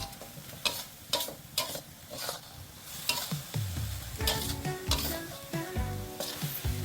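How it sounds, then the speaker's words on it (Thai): Minced pork fries with fermented fish (pla ra) in a pan as it is stirred dry, quick repeated scraping strokes over a soft sizzle, fairly quiet and close. "แล้วก็ผัดต่อให้เข้ากันครับ"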